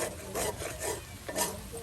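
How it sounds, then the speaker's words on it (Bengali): Potato pieces frying in hot, bubbling oil, a close crackling sizzle with several rhythmic scraping stirs of a spatula across the pan, moderately loud and without speech. "আর তেল দেখুন টকবগে উঠতেছে গো"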